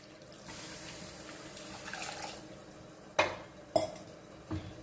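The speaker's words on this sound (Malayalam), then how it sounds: "നമുക്കിതിനകത്തോട്ട് ഇനി വെള്ളം ഒഴിച്ചു കൊടുക്കാം" Water is poured into a cooking pot for a green-plantain curry made without fish, giving a soft, quiet rush for a couple of seconds. Three sharp metallic clinks from the pot follow.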